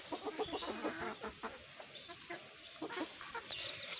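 Black hens cluck nearby in a backyard flock raising chicks, a run of soft, rapid clucks over steady background hiss, pausing briefly and then resuming.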